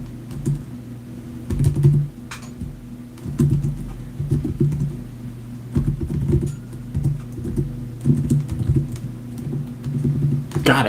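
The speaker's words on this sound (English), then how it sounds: "I fucking suck at typing tonight" Bursts of rapid typing on a computer keyboard, close by, over a low steady hum, pausing and resuming.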